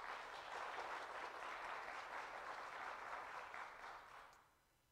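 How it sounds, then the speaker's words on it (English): A congregation at a Sunday worship service applauds the praise team, a faint, even spread of clapping that continues for about four seconds before tapering away to quiet. "Let's give them a round of applause again,"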